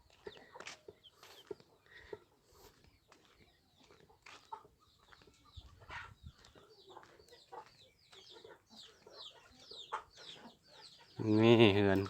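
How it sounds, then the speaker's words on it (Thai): Chickens cluck and chatter close by in a hillside Akha village in Laos, a scatter of short, uneven calls, with a louder burst of noise at the end. "ไก่"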